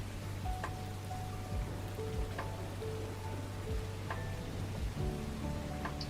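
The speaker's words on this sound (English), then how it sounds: "I want my rainy noises back." Steady rain falling in an Unreal Engine 5 game environment, a continuous soft wash of drops with occasional brighter patters, heard alone at a moderate, even level.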